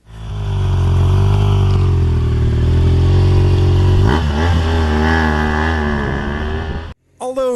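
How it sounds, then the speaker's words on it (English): A BMW R1200R 1200 cc naked motorcycle engine runs loud and close, droning steadily, then revving and rising in pitch as the bike pulls away, cutting off abruptly near the end. "let's take this bike for a spin"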